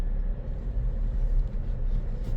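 A car engine rumbles steadily with a low, continuous drone while the car picks up speed on a narrow street, moderately loud and without voices.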